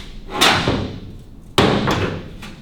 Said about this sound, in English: say you hang the new door on the front there, it's got one new door, shuts perfectly